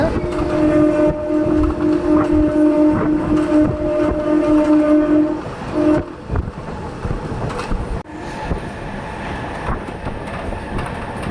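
A MEMU train roars through Lankalakota halt station at speed without stopping, a loud sustained rush with a steady tonal hum and rattling wheels that drops off sharply after about six seconds to a lower rumbling clatter.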